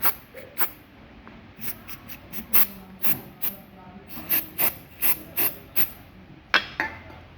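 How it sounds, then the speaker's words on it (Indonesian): Penetrating oil sprayed onto a worn idler tensioner pulley bearing from a Kia Rio, heard as a rapid series of short, sharp hissing spray bursts at close range, in an otherwise quiet setting. "Cuma kayaknya biar gampang saya semprot penetran dulu."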